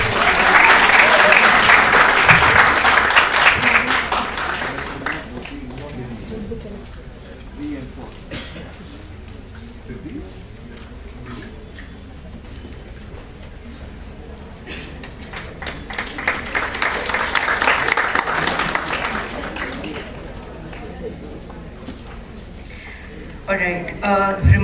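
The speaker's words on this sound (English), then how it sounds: "Please have a round of applause as well." Loud applause from a crowd at a school prize distribution function opens the clip and fades, then a second burst of clapping swells later over a murmuring room.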